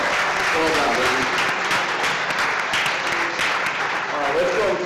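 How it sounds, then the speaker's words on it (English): Sustained studio audience applause with scattered cheers at a cooking competition show, loud and continuous throughout, with voices mixed into the clapping. "Let's give Brandon a big round of applause."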